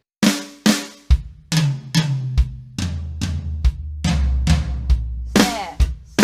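A drum fill played slowly on a kit of snare, toms and bass drum, about a dozen distinct strikes spaced evenly and moving from sharp snare hits to deeper, ringing tom and kick tones, loud and close.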